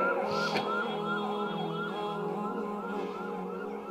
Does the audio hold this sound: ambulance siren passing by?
yes